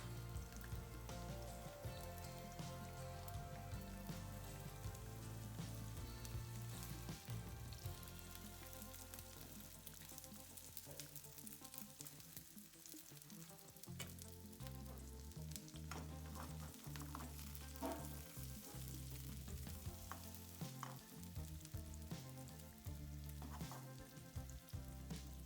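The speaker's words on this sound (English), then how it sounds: "We saute the onion for 4 or 5 minutes until it's translucent." Chopped onion sautéing in a touch of oil in a pan for a monkfish curry, a steady loud sizzle with stirring scrapes running continuously throughout, no voices.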